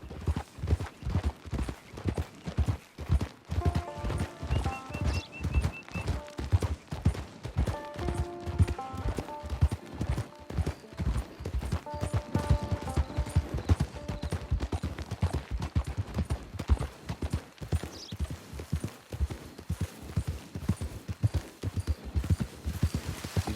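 Horse hooves clip-clop steadily in Red Dead Redemption 2 Online, a brisk rhythmic gait of close, punchy hoofbeats that runs throughout, with brief tonal game music cues drifting in partway.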